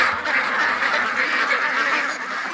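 Muscovy ducks crowd in tightly near a dock, their quacking thick and continuous in a short, busy burst without any talk.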